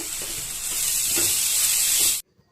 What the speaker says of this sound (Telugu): దీంట్లో ఇప్పుడు ఒక చిటికెడు ఇంగువ, 1/2 స్పూను పసుపు ఇవన్నీ వేసి ఇప్పుడు మనం ఈ మసాలాని బాగా వేయించుకోవాలండి